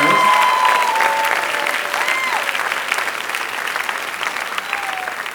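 Classroom audience at a school writers' week event applauds student presenters, a steady wash of clapping that is loud at first and gradually eases, with a few voices calling out over it.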